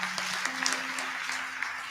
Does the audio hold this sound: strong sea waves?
no